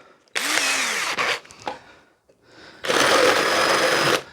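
A drill driving a flat bit through pallet wood, two loud bursts of whirring motor and grinding wood separated by a short pause, with brief stops and restarts in the first burst.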